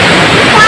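River water of the Narmada at Bhedaghat rushes in a dense, steady broadband roar close to the microphone, loud and unbroken throughout, like a waterfall or fast current.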